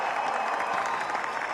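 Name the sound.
audience applauding a speech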